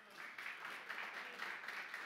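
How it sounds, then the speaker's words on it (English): Faint, distant audience applause at a sports sponsorship conference session, a steady soft patter of many hands clapping with no voices over it. "please, great applause for Christian Karembe"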